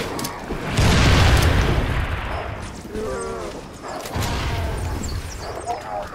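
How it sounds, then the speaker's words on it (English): A grenade goes off in Halo 3 ODST during a Flood firefight on Legendary, a loud booming blast that rolls away, followed by more explosions and chatter from in-game characters. "Grenade out!"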